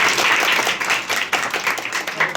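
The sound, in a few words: applause, clapping for a teacher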